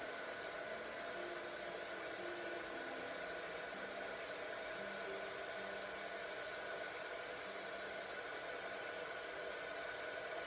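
A heat embossing tool blows steadily over a card for card-making, giving a continuous whirring, hair-dryer-like rush of air with a faint motor hum throughout, close and unbroken.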